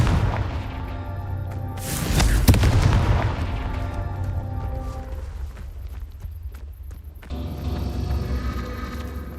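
A Confringo fire spell detonates in Hogwarts Legacy, a loud booming blast around the two-second mark that rolls into a long rumbling decay over steady game ambience, with smaller crackling hits trailing after.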